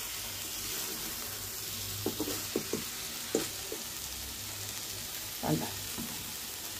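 Food frying in a little oil in a pan, a steady low sizzle with a few clustered stirring scrapes and clicks partway through, faint and without talk.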